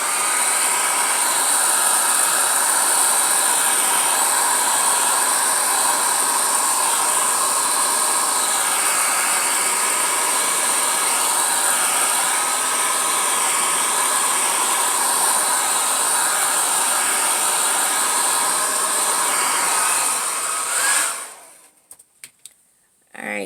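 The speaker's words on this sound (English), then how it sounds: "Get my blow dryer." A blow dryer runs loud and steady on a monochromatic watercolor painting of an egg, a constant close hiss and whir that holds for about twenty seconds before cutting off abruptly.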